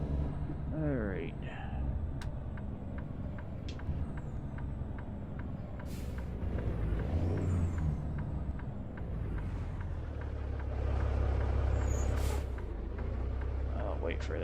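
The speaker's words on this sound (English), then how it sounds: "I'll wait for that truck." Truck engine rumbling steadily in American Truck Simulator, with brief sharp hisses of air brakes at a few points and a low engine drone throughout, under occasional talk.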